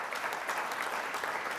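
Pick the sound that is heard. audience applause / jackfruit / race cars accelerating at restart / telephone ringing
audience applause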